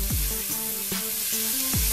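Onion and garlic frying in a pan for a braised oxtail dish, a loud, close, continuous sizzle with a few scraping stirs.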